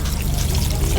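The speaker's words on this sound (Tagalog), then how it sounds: "hugasin na natin yung bigas" Water poured over rice in a bowl while washing it for a home-cooked meal, a steady close rushing pour lasting about a second with no voices.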